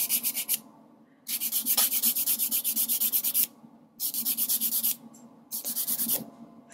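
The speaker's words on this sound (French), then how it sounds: "Comme vous pouvez le voir, voilà, je lime vraiment à peine." A nail file rasps across fingernails to remove semi-permanent polish, close and crisp, in four bursts of rapid back-and-forth strokes separated by short pauses.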